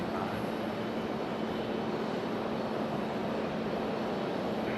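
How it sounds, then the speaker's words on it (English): Steady broadband roar of a United Embraer E175 jet airliner at Raleigh-Durham International Airport, continuous and fairly loud throughout with no voices over it. "Here we go, our United E175."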